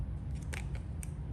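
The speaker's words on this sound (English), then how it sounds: "So we should cut it and do a window." Scissors snip through a toy package to cut out a window, a few quick, faint crisp clicks and rustles against a low background hum.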